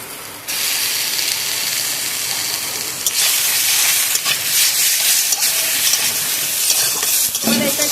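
Pieces of pointed gourd sizzle loudly in a pan with cumin while being stirred, a dense hissing fry that swells after a brief quieter start and keeps going with scraping stir strokes throughout.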